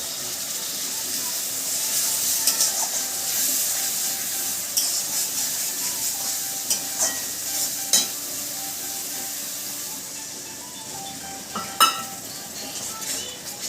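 Chilli powder frying in a pan hisses and sizzles steadily after water is poured in, a broad continuous spitting sound up close, with occasional clinks of a utensil stirring against the pan.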